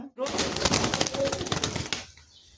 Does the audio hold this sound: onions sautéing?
no